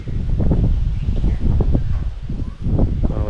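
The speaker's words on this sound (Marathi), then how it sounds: "वारा बघा कसं मस्त सुटलेला आहे" Steady outdoor wind rushing and buffeting the microphone, a continuous low roar with gusty swells and faint rustling, no voices.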